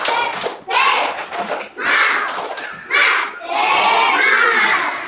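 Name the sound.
schoolchildren doing a 'tepuk semangat' clapping cheer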